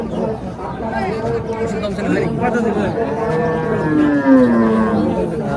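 A very large beef cow lows in drawn-out moos at the Rajshahi city cattle market, heard close amid a busy crowd's chatter and people talking over it.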